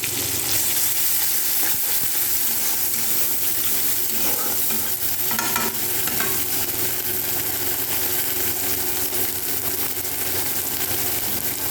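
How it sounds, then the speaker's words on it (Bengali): Ginger, onion and garlic paste with cumin-chili paste fry in plenty of oil, giving a loud, dense, continuous sizzle with occasional stirring scrapes. No one speaks. "এখন আমি আদা পেঁয়াজ রসুন বাটাটা দিয়ে দিলাম, আর জিরে লঙ্কা বাটাটাও দিয়ে দিলাম।"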